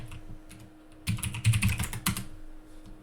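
Keys clatter on a computer keyboard as a word is typed into a Google search window, a quick cluster of close, crisp keystrokes in a quiet room, preceded and followed by near silence.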